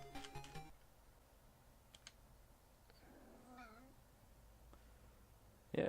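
A house cat gives a single short, faint meow partway through, amid quiet room tone and a few soft ticks, after a brief burst of game sound at the start.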